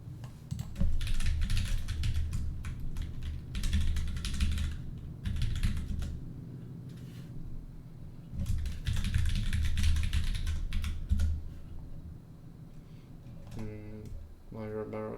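Account details are typed on a computer keyboard in quick, uneven bursts of soft clicking with short pauses, close by, and a voice speaks briefly at the end.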